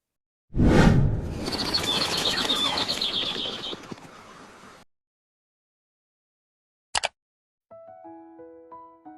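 A bird's wings flap in a close, loud flurry mixed with calls for about four seconds, then a sharp click and a few soft tonal notes follow.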